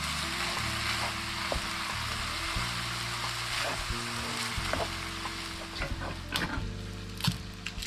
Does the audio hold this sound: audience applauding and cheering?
no